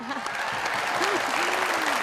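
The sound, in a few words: audience applause for host Zainab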